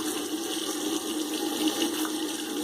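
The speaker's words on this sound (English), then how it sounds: "Rinse off real quick," Tap water runs steadily and close up into a sink for a quick rinse during a wet shave with a slant razor. The splashing is continuous and moderately loud and lasts a few seconds.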